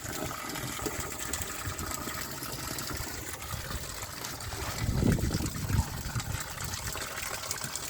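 Water gushes steadily from a pipe at a farm well, giving a continuous close rushing and splashing that swells briefly midway and stays fairly loud without speech.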